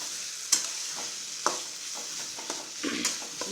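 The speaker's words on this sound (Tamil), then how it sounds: "இப்போ சாப்பாடை நல்லா உள்ளே போட்டு நல்லா கிளறி விட்டாச்சு." Cooked rice gets stirred and fried in a pan: a soft, steady sizzle broken by a few distinct scraping strokes of a spatula at irregular intervals, close and fairly quiet.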